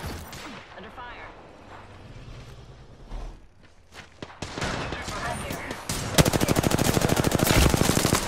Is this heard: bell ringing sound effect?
no